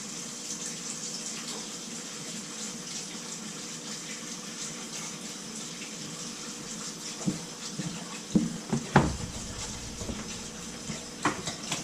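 Warm water runs steadily from a tap into a clean bowl set up for washing eggs, a continuous close splashing hiss with a few louder clunks and bumps near the end.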